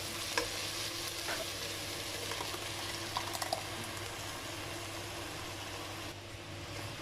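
Eggs are mashed into a spinach masala curry in a pan. A steady sizzle and soft stirring scrape run throughout, with a few light taps of the utensil against the pan.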